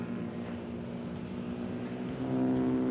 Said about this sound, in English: Dean Smith makes his way past in his blue Mini